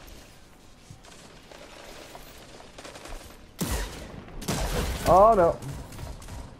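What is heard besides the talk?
gunshots from the video game Destiny 2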